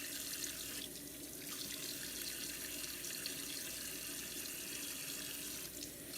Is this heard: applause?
no